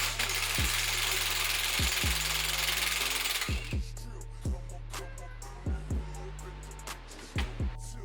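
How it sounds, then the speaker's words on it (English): Three bolts being removed from the drive shaft of a Mercedes-Benz 190E W201 during subframe removal: a loud, steady mechanical whir for several seconds, then a series of short, sharp tool bursts in an uneven rhythm, close by. "what you just saw was me removing the 3 bolts on the drive shaft"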